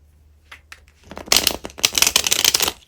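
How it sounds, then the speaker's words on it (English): A deck of tarot cards being shuffled by hand. After a few soft taps it breaks into a dense, crisp riffling flutter that fills the last half of the clip, close and fairly loud. "one more shuffle here"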